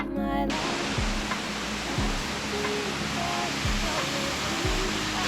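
A freshwater stream flows near Arusha, Tanzania, with a steady broadband rush of running water throughout. A brief bit of music opens it, and a few low thumps come and go under the flow.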